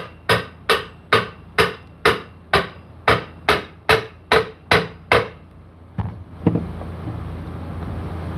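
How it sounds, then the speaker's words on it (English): A dozen sharp hammer blows strike in a steady, evenly spaced rhythm, close and loud, then stop, leaving a brief clatter and a windy hiss. "I really hate using a hammer on stuff like this."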